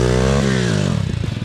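A 110cc pit bike engine revs loud and close, its pitch holding high and then dropping sharply as it falls back into a choppy, pulsing idle.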